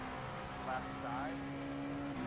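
Cadillac race car engines in the iRacing video game during the IMSA Indy 6 Hour race give off a steady, fairly faint droning hum that holds an even pitch beneath people talking.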